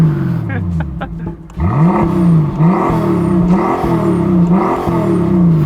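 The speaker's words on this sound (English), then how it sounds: "This car was built before the days of petrol particulate filters, so it sounds fruity." A Brabus G800 with a V12 petrol engine and no particulate filter revs hard, rising and falling in repeated loud swells after a brief quieter idle, close up and dominating throughout.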